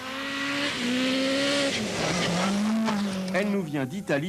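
A Lancia Delta S4 rally car at the 1986 Monte Carlo Rally roars close by, its engine note holding high, then dipping and surging, with tyre noise and a commentator speaking over it throughout.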